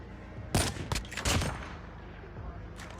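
Sniper shots in a battle royale video game: two or three loud, sharp cracks in quick succession with short echoing tails, followed by a fainter shot near the end.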